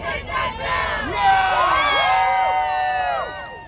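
A crowd at a Big Apple Circus photoshoot at Lincoln Center, New York City, cheers and whoops for a few seconds. The voices are loud and close, with shrill rising shouts from many people at once.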